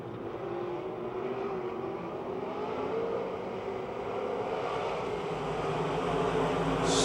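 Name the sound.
race cars racing at Pennsylvania Motor Speedway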